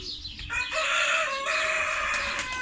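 Chickens eating household scraps cluck and call close by, a steady run of bird voices with a rooster-like crowing quality, no talking.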